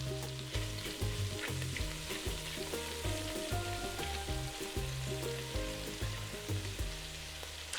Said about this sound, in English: Once the meatballs have seared for about 2 minutes on each side, 2 to 3 minutes, you can remove them